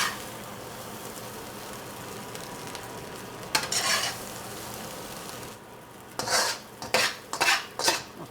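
Peruvian fried rice is scooped out of a pan with a utensil. A soft background sizzle runs under a cluster of close metallic scrapes and clanks near the end.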